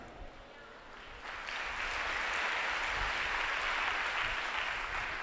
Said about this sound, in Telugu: ఆ అబ్బాయి ప్రార్థన చేసుకుంటున్నాడని మీరు చప్పట్లు కొట్టారు